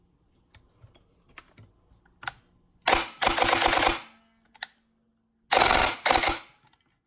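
An SSG-1 airsoft gun with a 25K motor firing two rapid bursts, each a loud, dense, fast-rattling volley lasting about a second, preceded by a few light clicks of handling.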